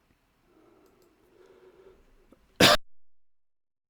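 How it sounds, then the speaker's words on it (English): A single sharp cough rings out loud and close after a few seconds of quiet, low murmuring, then fades into silence. "you might have heard me coughing"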